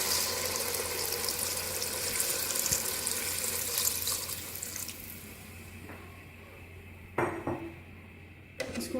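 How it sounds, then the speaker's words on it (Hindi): Water runs and splashes steadily into a metal cooking pot, three glasses poured for chicken pulao, a continuous pouring rush with a few clinks of the vessel near the end. "3 गिलास में पानी शामिल कर रही हूँ।"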